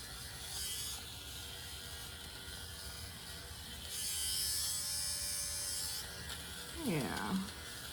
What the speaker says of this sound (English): I have a sweater shaver that I keep in my drawer, and sorry, it's a noise.